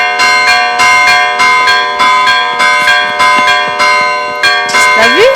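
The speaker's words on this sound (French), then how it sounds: "Je ne sais pas pourquoi cette cloche fait que sonner." A church bell rings loudly and close by, striking about eight times in a steady rhythm, each strike leaving a long ringing tone that overlaps the next before a rising whistle-like sound appears at the end.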